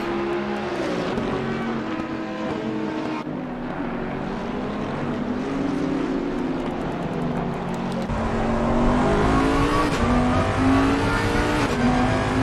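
Two race cars from a PS5 racing game circle the Zandvoort track, their engines droning loudly and continuously with rising and falling pitch as they run nose to tail, a steady layered roar with shifting revs throughout.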